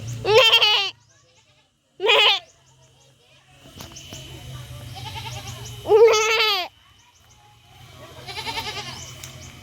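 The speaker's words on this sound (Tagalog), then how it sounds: "I'm going close to the goat and I'm gonna try to call it." A goat at close range bleats four times at irregular intervals. Each bleat is loud and wavering, with faint background noise in between.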